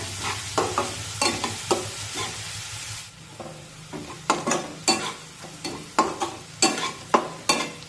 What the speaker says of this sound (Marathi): छान तांबूस रंगावर कांदा आपण भाजून घेऊया